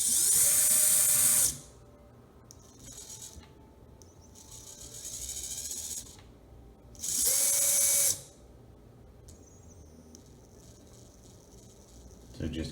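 The tiny motor and ESC of an SCX24 RC crawler whine in high-pitched bursts, two loud and one softer, separated by near silence, with no talking during the runs.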